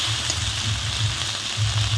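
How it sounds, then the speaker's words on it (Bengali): A ground spice paste is stirred and sautéed in a pan, producing a steady, close sizzle with a low rhythmic scraping pulse from the stirring. "এবার একটু ভালো করে নেড়ে নিতে হবে, মানে কষিয়ে নিতে হবে"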